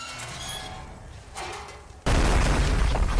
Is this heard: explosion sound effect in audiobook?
yes